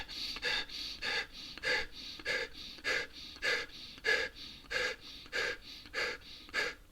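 Fast, shallow breathing demonstrated by a person, about twelve quick, evenly spaced breathy puffs at roughly two per second, close and clear with no talking.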